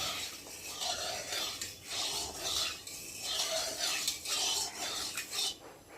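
A spatula scrapes and stirs rhythmically against a hot kadai (wok) before fish goes in, giving repeated close raspy strokes with brief pauses and no voice.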